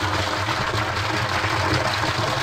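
Water from a motor pump gushing forcefully into a tank on a garden plot, a steady loud rushing roar with a low motor hum beneath, continuous and close throughout.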